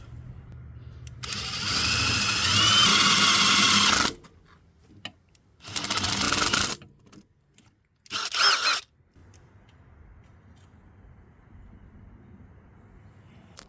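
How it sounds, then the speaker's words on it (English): A power drill whirs in three bursts while drilling a 1/4 inch hole on a Kioti tractor, one long run followed by two shorter ones, with quiet pauses between them. "I'm going to go ahead and drill a 1/4 inch hole right here."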